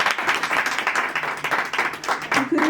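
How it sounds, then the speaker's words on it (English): A celebration audience at a Canada–Nepal bilateral relations day event claps in uneven bursts, loud and close, with some voices mixed in near the end. "I would like to request all of you to please give a round of applause to Premier Dogford."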